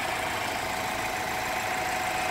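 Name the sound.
2016 BMW X3 SUV engine running after revving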